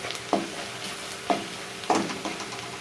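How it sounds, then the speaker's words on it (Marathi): Spices and coriander powder roasting in oil for a Khandeshi amaranth greens dish, three distinct scraping stirs over a low steady sizzle, close up with no voices. "तेलामध्ये सगळे मसाले भाजून घ्यायचे आहेत"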